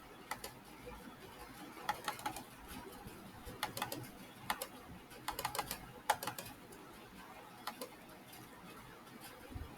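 Typing on a computer keyboard while entering registration data: scattered clicks and short bursts of keystrokes over a faint room hum, close and fairly quiet, with no speech.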